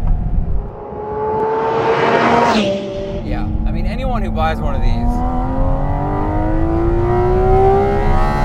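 A Porsche Cayman GT4 RS engine revs up through the gears with a rising, tonal howl, loud and close from inside the cabin, while someone talks over it.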